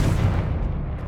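The Confringo explosive spell in Hogwarts Legacy bursts with a deep, loud boom that decays into a rumbling tail over about a second.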